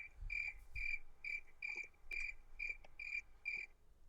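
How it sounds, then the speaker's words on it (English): Crickets chirping as a sound effect, a regular series of about nine bright, evenly spaced chirps against a quiet background, clear and fairly near. "Let's do crickets."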